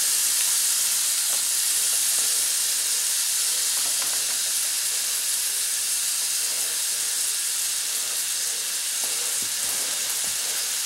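Deer heart and onions cook in a pan over medium-high heat, making a dense, continuous sizzle and hiss that stays steady and fairly loud throughout, with faint stirring ticks and no talking.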